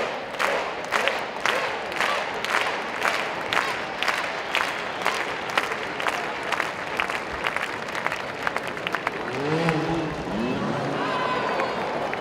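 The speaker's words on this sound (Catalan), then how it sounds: "aplaudiment per Geroni Fajardo!" Spectators at the X-Trial Barcelona 2018 indoor motorcycle trial clap for rider Jeroni Fajardo, a large crowd beating out rhythmic, evenly spaced claps in unison with cheering underneath, loosening into a general roar near the end.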